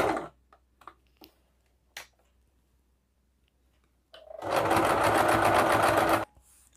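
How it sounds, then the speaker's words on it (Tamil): Sewing machine running a top stitch over invisible piping: a steady, close whirring burst of about two seconds, preceded by scattered light clicks and handling noises in a quiet room. "மேலே ஒரு டாப் ஸ்டிச் கொடுத்துக்கலாம்."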